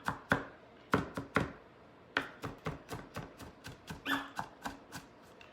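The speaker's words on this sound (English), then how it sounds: "You want to chop this pretty fine because it's going to be a filling." A knife chops knish filling finely on a cutting board, a brisk run of about eighteen sharp, close knocks in an uneven rhythm, with no talking.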